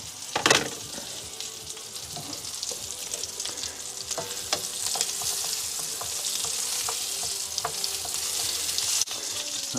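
Food sizzling and frying in a hot pan, a steady crackling hiss with scattered pops and stirring clicks, close and continuous with no talk.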